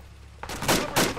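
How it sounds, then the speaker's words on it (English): Two sharp gunshots crack close by in a combat video game, loud and distinct about a quarter-second apart after a quiet moment. "Shots close."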